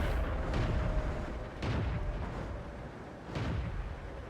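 Distant artillery shells booming in World of Tanks during a tier 6 Soviet T-34-85 Rudy medium tank battle, with three heavy rumbling blasts spaced across a continuous low battlefield roar.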